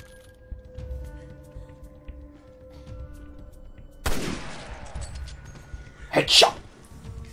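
A single sharp gunshot from a weapon in the video game Resident Evil Revelations 2, bursting abruptly over a quiet ambient game backdrop, followed moments later by a brief loud crackling impact.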